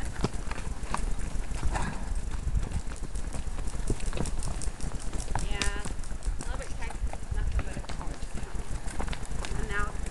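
Horse hooves clip-clopping in a steady rhythm while riding, heard close up under constant wind or motion noise, with people talking at times.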